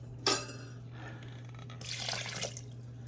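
Two-thirds cup of water poured into pumpkin quick bread batter in a home kitchen, a brief splash followed by a second, longer gush of liquid running into the bowl, close and fairly quiet, with a steady low hum underneath.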